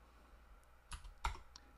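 A few quiet keystrokes on a computer keyboard, typing a short command into a trading bot client in a terminal; sparse clicks in a brief burst with no talking.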